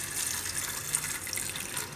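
Water pours steadily into a cooker for boiling with salt, a soft continuous splashing hiss lasting the whole moment, faint and with no talk.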